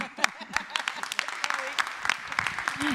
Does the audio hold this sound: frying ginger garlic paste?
no